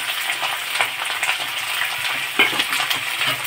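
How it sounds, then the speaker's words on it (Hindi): Chicken frying with onion and chilli in a pan, giving a dense, constant crackling sizzle with occasional louder pops, close and steady throughout, with no speech. "तो चिकन को हल्का इसमें फ्राई करेंगे"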